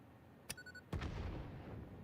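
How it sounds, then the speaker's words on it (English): A detonated obelisk explodes far off in the Satisfactory video game: a faint, sharp crack followed by a low, rolling boom whose rumble lingers quietly. "Hey Doc, can you throw an obelisk and detonate it so we can kind of have people listen for the audio delay?"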